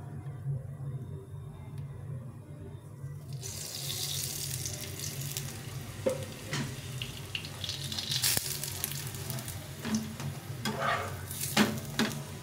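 Lachha paratha frying in oil on a pan, a steady broadband sizzle that swells louder after a few seconds, with scattered crackles and light scraping or clinks over the top.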